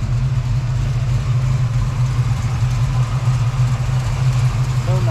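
The V8 engine of a 1972 Plymouth Road Runner idles with a deep, steady rumble close by, continuous and loud with no talking.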